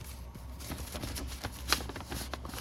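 Old paper cards from a big dirty box of vintage paper being handled and shuffled, giving soft, quiet rustling and flicking close by, with one brief sharper snap.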